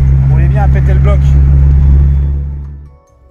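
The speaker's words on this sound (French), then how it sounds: "la voiture a des ratés de ouf en mode auto-apprentissage" A car engine with a misfiring problem runs loud and close, a steady low drone with an uneven note, while a person talks over it before the sound fades out near the end.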